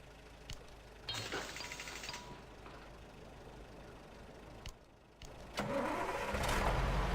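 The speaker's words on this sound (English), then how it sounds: "stop that engine on that car sooner or later" A car engine runs in the Mudrunner Spintires off-road video game, a steady mechanical rumble with rising revs and surges near the end, a couple of sharp clicks in between.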